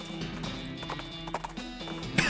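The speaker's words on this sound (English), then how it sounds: "My horse is making weird noises" Hollow hoof clip-clops from a horse in the game West of Loathing, a few uneven steps over a steady musical backdrop, with a brief sharper sound near the end.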